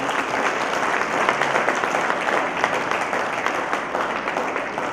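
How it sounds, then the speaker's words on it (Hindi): A crowd at a Sahaja Yoga ashram inauguration in Hyderabad applauds the children with steady, full clapping from many people, close and evenly sustained throughout. "आज हम सब इनके लिए जोरदार तालियां बजाते हैं"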